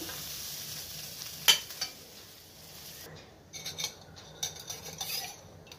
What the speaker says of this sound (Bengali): আবার ওই কড়াতে সাদা তেল দিলাম।